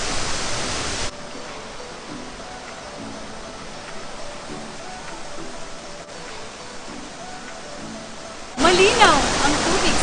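Steady, loud rush of falling water roars without pause, a dense wash of noise that swells slightly louder near the end.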